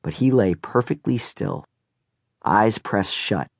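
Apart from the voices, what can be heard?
None of the usual background noises is heard.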